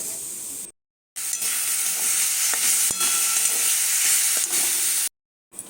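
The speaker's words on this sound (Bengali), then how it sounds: "এরপর আমি দিয়ে দেবো তেলে ফোড়ন দিয়ে" Spices tempered in hot oil for amra dal, a dense continuous sizzle with faint pops, briefly cut to silence at the start and end, no speech.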